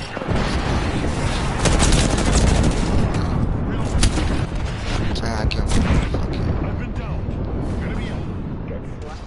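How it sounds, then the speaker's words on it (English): Loud gunfire in Apex Legends, with repeated shots and booming impacts in a heavy, continuous barrage, while a player talks over the chaos. "Oh no, I'm being shot."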